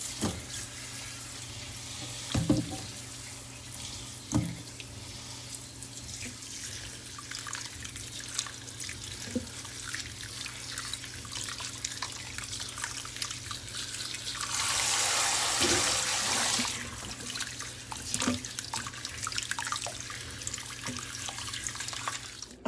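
Cold tap water runs into a kitchen sink during pickle-making, with a steady gush that swells for a few seconds midway. Scattered drips and clinks of dishes are heard against a quiet background.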